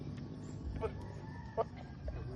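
Soft, scattered clucks from chickens somewhere in the distance in Dumaguete, Philippines, over a steady rustling outdoor background.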